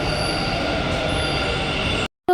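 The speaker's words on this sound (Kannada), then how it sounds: "ಮೆಟ್ರೋ ಏನೋ ಬಂತು" A metro train pulls into a station with a loud continuous rumble and high wheel squeal, sustained for about two seconds before a sudden cut, followed by a brief squeal.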